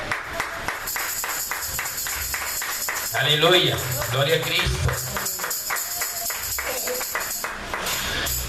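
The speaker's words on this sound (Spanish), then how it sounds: "Denle un aplauso, Señor." A church congregation claps in steady rhythmic applause that runs throughout, while a voice calls out praise over the clapping in the middle.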